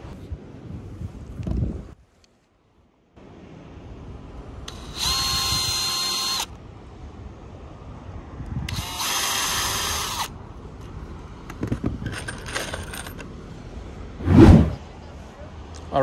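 Power drill driving 1.5-inch AZEK screws into a gate, with several sustained whirring bursts separated by pauses and handling noise, plus a brief sharp knock near the end.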